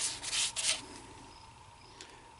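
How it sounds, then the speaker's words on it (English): A turned cherry wood bowl gets sanded in a few quick, close scratchy strokes, then the rubbing fades to a soft, faint hiss. "Of course, it needs more sanding."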